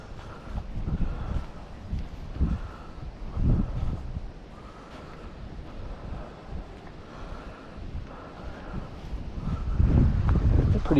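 Strong wind buffeting outdoors, a steady rushing roar with heavier low gusts that swell and fade, louder toward the end, with no talk over it.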